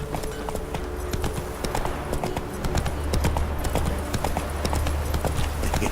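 Horse hooves galloping at a steady rhythmic clip-clop in The Witcher 3, close and continuous over a low rumble of game ambience.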